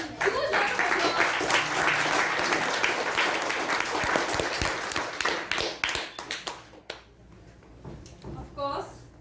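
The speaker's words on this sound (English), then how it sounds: "Let's give a huge round of applause." An audience breaks into a big round of applause at the close of a pairing session: dense, loud clapping for several seconds that thins into scattered claps and fades, with voices talking over the tail.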